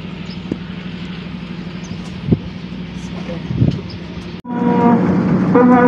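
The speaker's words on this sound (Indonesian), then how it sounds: "akan segera masuk kereta api Pasundan" At Kebumen station, the Pasundan passenger train rolls in with a low, steady rail rumble, faint clanks and brief tonal bursts, growing louder and fuller near the end amid background station noise.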